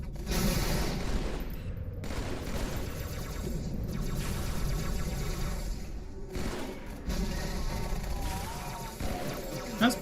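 Gunfire in Halo 2, dense bursts of rapid shots and booms rolling almost continuously, loud and close, with a voice talking underneath.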